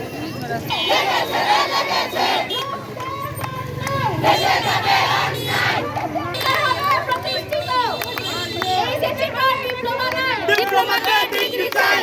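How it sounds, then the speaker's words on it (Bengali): A loud crowd of nursing and midwifery students at a protest in Jamalpur chants and shouts slogans together, with raised voices ringing out continuously and close by for the whole stretch. "আরো পত্নী যারা স্লোগান নিয়ে আসতেছে"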